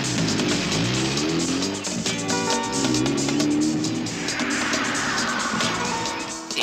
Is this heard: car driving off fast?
yes